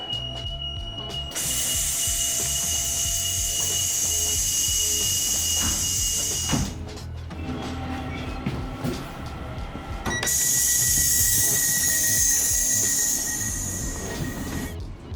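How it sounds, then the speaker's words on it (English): Inside a Dublin DART commuter train carriage, a steady rumble runs beneath high electronic door tones and chimes, with a clunk of doors moving midway before the tones resume. "how the door opening and closing sounds are in the opposite order to what it is in Britain"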